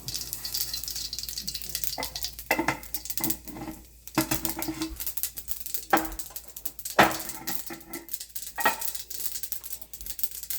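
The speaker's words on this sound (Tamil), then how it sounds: "எண்ணெய் விடணும். கடுகு," Mustard seeds popping and sizzling in hot oil for Sri Lankan style goat curry, irregular sharp crackles and spits over a soft frying hiss, close and fairly loud.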